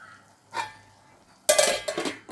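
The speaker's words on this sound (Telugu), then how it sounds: "ఇప్పుడు మనం మూత పెట్టేద్దాం." A metal lid is set onto a cooking pot of semiya upma on the stove, a short clink first, then a louder clattering settle of metal on metal that rings briefly.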